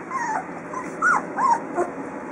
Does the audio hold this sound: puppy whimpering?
yes